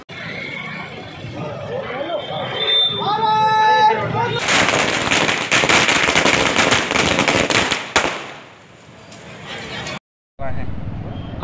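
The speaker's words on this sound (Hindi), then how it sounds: "माधवगंज पर संयुक्त किसान मोर्चा द्वारा पटाखे चलाकर खुशियां जाहिर की गई।" Firecrackers are set off in an outdoor celebration by a farmers' group, a dense crackling barrage of rapid bangs after an opening stretch of talk and horns, then an abrupt cutoff.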